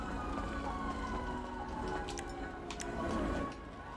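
Police car siren in the video game GTA Online, a steady wailing tone over dense background game noise and engine rumble throughout.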